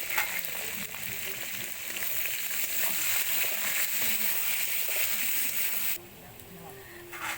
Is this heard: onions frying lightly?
yes